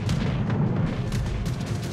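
Naval gunfire from warships in World of Warships: Legends, a dense continuous rumble of heavy booms layered over one another, loud and close, with no pauses across the short stretch.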